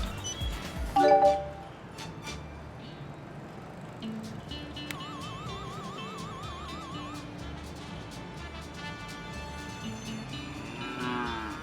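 Cartoonish cow moos come from a UFO-themed claw machine in The Coin Game, a brief loud moo near the start followed by electronic warbling tones, chimes and arcade bleeps.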